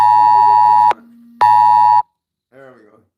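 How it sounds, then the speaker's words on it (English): An Amber Alert emergency tone blares from a phone in two loud, sustained, buzzing bursts with a short gap between them, followed by a brief voice. "I had an Amber Alert come onto my phone."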